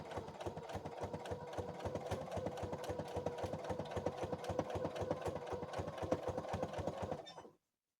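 A sewing machine stitches steadily down the corner of a pant leg during mending, its rapid even needle rhythm running close and continuous for about seven seconds before stopping abruptly.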